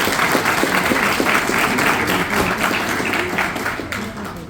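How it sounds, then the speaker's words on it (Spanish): An audience at a science festival in Paraguay gives a teacher a dense round of applause, steady and fairly loud throughout, easing slightly at the end. "Un aplauso para la profe."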